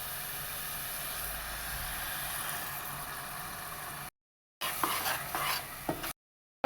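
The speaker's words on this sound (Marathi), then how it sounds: "आता आपण यात दही टाकून घेऊया" Yogurt and ginger garlic paste are stirred and fried in a pan for a restaurant-style matar paneer masala, making a close, steady sizzle and scraping broken by two brief silent gaps.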